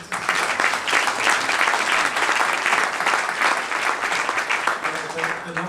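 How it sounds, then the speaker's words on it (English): A large conference audience at a digital health innovation event breaks into steady, full applause that holds evenly throughout without fading. "I think we should all really applaud you for that, and that we have"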